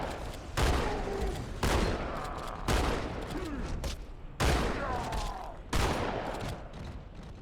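Shotgun blasts in the video game Halo 2, five loud, sharp shots fired at a slow, even pace about a second apart, each trailing into a rumbling decay with game noise between.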